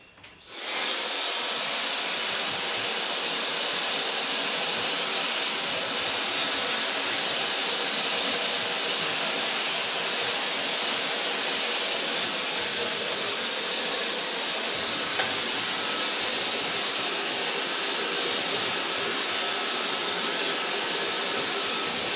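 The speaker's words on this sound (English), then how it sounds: "So far blow drying." A hair dryer blows steadily on hair during a bob cut and red color styling session, switching on abruptly and holding a loud, constant airy whoosh for the full stretch with no talk.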